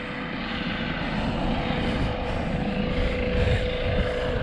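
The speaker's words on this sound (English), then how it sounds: "The helicopter's just gone straight over the top of us" A helicopter engine drones steadily and loudly straight overhead in winter mountain country, a constant broadband roar with a low hum throughout and no voices.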